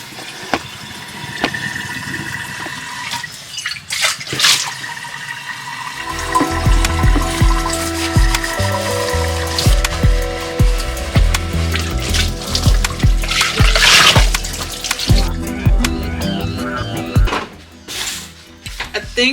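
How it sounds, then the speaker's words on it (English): A pot is washed under a running kitchen tap, water splashing and gushing unevenly with clanks and handling noises, loud and close, shifting in force as the pot is moved under the stream. "I got to wash this pot first and foremost"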